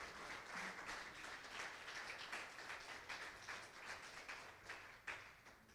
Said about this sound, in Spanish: Dele unas palmas al Señor.